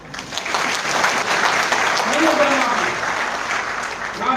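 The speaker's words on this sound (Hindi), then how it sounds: "एक बार ताली दीजिए तो जोर से।" Audience at a bank officers' association general body meeting in Ahmedabad, Gujarat, clapping loudly and steadily; dense, sustained applause filling the hall, with voices mixed in.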